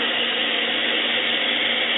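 Tap water runs steadily into a coffee pot, a continuous close hiss and rush with no pauses over two seconds.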